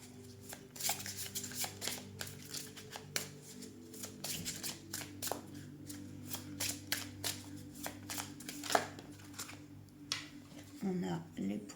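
Lenormand oracle cards are shuffled and dealt for a three-card reading, giving a steady run of crisp riffling snaps and soft slaps close up, with a low hum beneath and a light handling rustle near the end.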